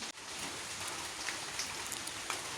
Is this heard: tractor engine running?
no